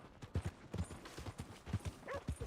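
Horse hooves clip-clop in the Red Dead Redemption 2 video game, a fairly quiet, irregular patter of steps at walking pace with soft background noise.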